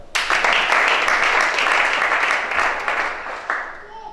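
A church congregation at a worship service breaks into loud, sustained applause and cheering that fills the room, then slowly tapers off.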